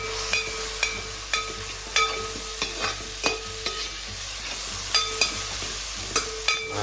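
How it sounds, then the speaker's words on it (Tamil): Ginger and garlic paste sizzles in an oil pan as it's sautéed for a murrel fish curry, with a steady frying hiss broken by regular, sharp clicks of a spatula stirring against the pan. "கொஞ்சம் இஞ்சியும் பூண்டும் அரைச்சது அதையும் போட்டு வதக்கணும்."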